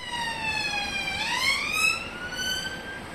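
Police car siren in England, its wailing tone sweeping down and then rising again, heard clearly with steady road noise beneath it.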